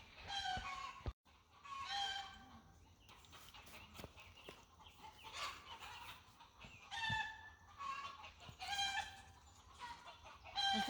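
Chickens near a backyard coop on a small country farm, with a rooster crowing several times and hens clucking in between, fairly close and loud over a busy outdoor background.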